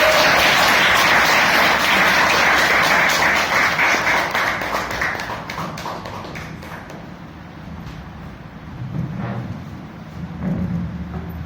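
An audience at a Toastmasters club meeting breaks into a big round of applause, dense close clapping that swells loudly and then thins out over several seconds into scattered claps.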